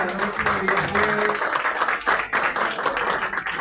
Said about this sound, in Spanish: Un aplauso, por favor, para nuestro anfitrión de hoy.